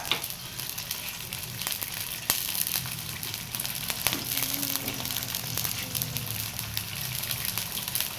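Sardines sizzle steadily in a hot pan for a papaya-and-sardine dish, a continuous close frying crackle with occasional louder pops and faint stirring.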